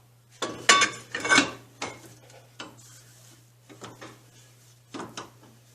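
A drum brake adjuster spun by hand gives short bursts of mechanical ratcheting clicks, a few quick runs near the start, then lighter scattered clicks.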